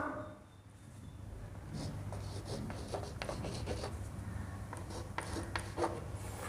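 A pen scratches across paper while writing in an accounting journal, quiet, close strokes in short bursts over a soft background hiss.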